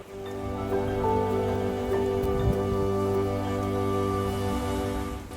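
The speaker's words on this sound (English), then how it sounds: "It was my first time in rain in this tent." Steady rain patters on a taut tent roof overhead on Mt Shasta, a constant close hiss of drops with a low hum running underneath.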